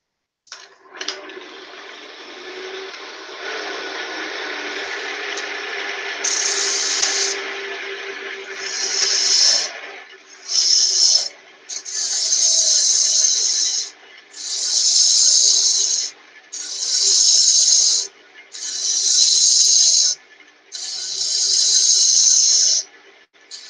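Small gouge hollowing a turned wood piece on a lathe: a steady hiss of spinning wood for several seconds, then a run of rhythmic, loud scraping cuts in regular bursts, each lasting about two seconds with short pauses between.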